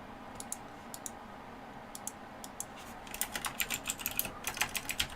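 Typing on a computer keyboard, light scattered keystrokes at first, then a faster, denser burst of clicking keys close by, no talk.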